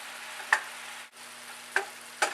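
Soaked wild mushrooms and garlic frying in a pan, a steady low sizzle broken by three sharp scrapes of a spoon stirring, close and fairly quiet with no talk.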